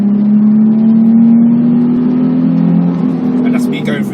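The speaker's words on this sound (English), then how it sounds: "I'm literally feathering the throttle and letting the revs build so you can hear the tone of the engine" A Nissan 350Z's 3.5-litre V6 engine revs up slowly and smoothly under feathered throttle, its loud, steady tone climbing in pitch before easing off near the end, heard up close.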